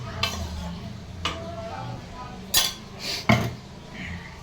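Carrot halwa with sugar is stirred in a pan, giving a few distinct scraping and clinking strokes of a spoon against metal over a soft low background.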